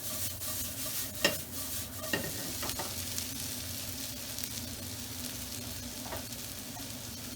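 A garlic clove is stirred into browned onion and capsicum in a frying pan for Tunisian shakshouka: a soft, steady sizzle with a few utensil scrapes and knocks, fairly quiet and close.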